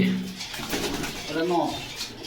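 Giribaz pigeons at a pigeon seller's, soft throaty coos rising and falling, with people talking nearby.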